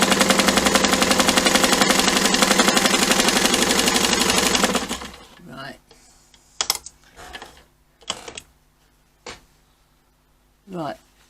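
An Eterna/Jones sewing machine runs fast and steadily, its needle stitching in a dense, even mechanical chatter for several seconds before it stops. Scattered handling clicks and brief speech follow.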